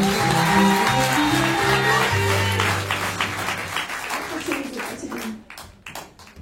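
Audience applauding at an association event in Thonon, strong clapping over a sustained musical tone and background voices, gradually thinning out into a few scattered claps at the end.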